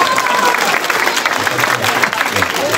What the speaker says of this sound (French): on l'applaudit bien fort, Chloé.